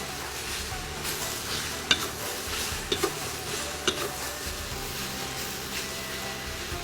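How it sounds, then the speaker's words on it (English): Cabbage stir-frying in a pan for vegetable lo mein, a steady soft sizzle broken by a few sharp clicks and scrapes of stirring, with no talking. "let's add in that cabbage. We're gonna get this cooked down."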